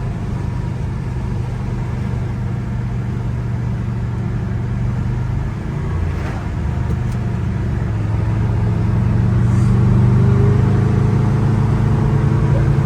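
Interior drone of a 1969 Pontiac GTO cruising down the road, a steady low engine rumble that rises slightly in pitch and loudness toward the end, no one speaking.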